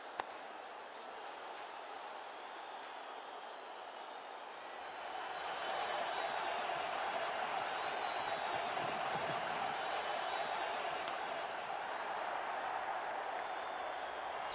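Cricket stadium crowd in the WCC3 video game, an anxious murmuring roar that rises to a fuller, louder swell midway and holds steadily as a continuous distant wash.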